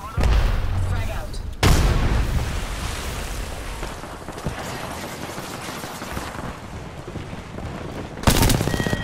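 Gunfire and a frag grenade blast in the video game Apex Legends, with loud dense bursts and booms filling most of the span and sharp onsets near the start and end.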